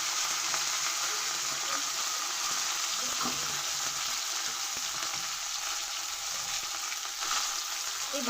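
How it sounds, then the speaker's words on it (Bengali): Pieces of bitter gourd fry in hot oil for a home-style shukto, giving a constant close hiss of sizzling with occasional light scrapes from stirring. "এবারে এর মধ্যে আমি দিয়ে দেব করলাগুলোকে ভেজে নেব।"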